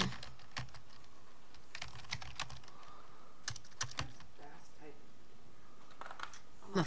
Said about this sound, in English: I'm a fast typer.